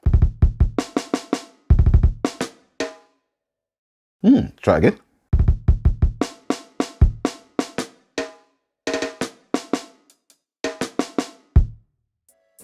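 Drum samples from the Sounds From Yard pack playing as a punchy, pocket-style beat pattern of repeated kicks and snappy hits in short bursts with gaps, and a brief spoken phrase in the middle.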